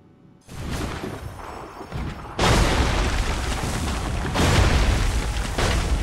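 Musket volleys at Bunker Hill in Assassin's Creed 3 Remastered: dense, booming gunfire rolls in after a brief quiet, then swells louder and stays continuous, with heavy overlapping blasts throughout and no talking.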